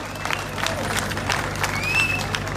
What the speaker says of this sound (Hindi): शुरू करके ठोको ताली।